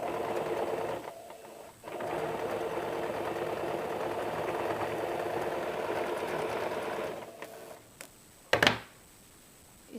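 An electric sewing machine runs a long continuous stitch on blouse fabric, a close, even whirring hum broken by one brief pause, then it stops and a few sharp clicks and handling knocks follow.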